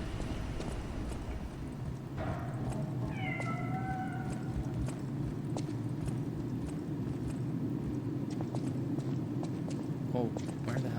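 A kitten in the video game Lies of P gives a few short meows in quick succession, mid-distance over a busy ambient backdrop of clopping hooves, with a person speaking over it.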